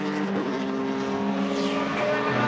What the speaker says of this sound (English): Another car closing up.